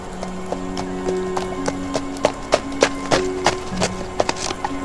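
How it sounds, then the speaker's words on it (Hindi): Hooves of a horse pulling a carriage clip-clop in a steady, uneven walking rhythm, close and distinct, with faint background hum and a low tonal drone underneath. "धीरे धीरे घोड़ा गाड़ी को चर्च की ओर ले जाने लगा"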